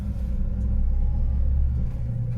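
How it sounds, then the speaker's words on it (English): A 1988 Lada Niva 4x4 pulling away in first gear, a low, steady engine rumble from inside the cabin that swells gently and holds at a moderate level. "Nice acceleration."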